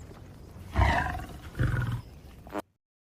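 A cartoon lion gives two deep roars about a second apart, loud and close with no talk over them, then cuts off into silence.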